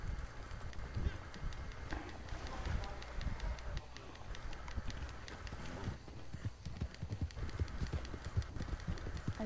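A horse's hoofbeats in Red Dead Redemption 2 on PS4, a steady galloping clip-clop at moderate loudness under a dense, noisy game soundscape, with no voices.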